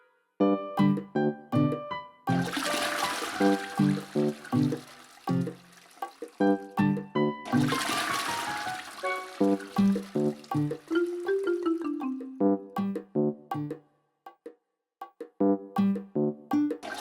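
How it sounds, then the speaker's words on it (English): Toilets flush in a Backrooms-style video game filled with toilets: two long rushing water bursts stand out against steady, rhythmic tonal game music, with a trickling tail after each. "this idea of just flushing every toilet that you see"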